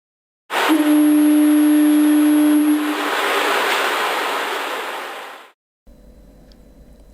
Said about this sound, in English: This lighthouse has a foghorn, just like the real one, and it sounds a horn once every 30 seconds